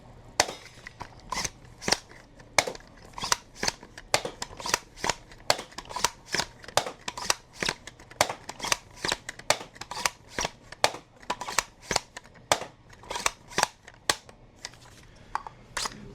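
An X-Shot Pike dart blaster fires X-Shot darts from an 18-round slim short magazine in a steady string of sharp, close, snappy shots, roughly two per second, with no talking.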